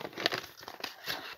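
Paper crackles and crinkles as it is crumpled by hand during a papercraft session with envelopes, in several close, busy bursts with no talking.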